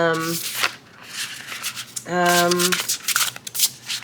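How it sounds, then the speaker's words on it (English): A Scarab and Dahlia tarot deck shuffled by hand, with repeated close papery riffling and rubbing bursts, and two short voiced sounds from a person over the cards. "so she's a very satisfying shuffle, actually"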